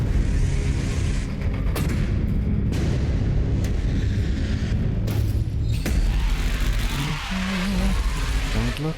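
A video-game explosion booms and rumbles loudly through the whole stretch, with crashing debris and sharp bursts over a dense low roar.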